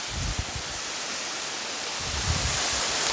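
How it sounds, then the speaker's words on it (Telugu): Darimalli waterfall pouring in a steady, broad hiss of rushing water, continuous and fairly close, with low rumbling gusts underneath and no talk. "వాటర్ సౌండ్ అనమాట వాటర్ ఫ్లో ఎట్లా ఉందనేది"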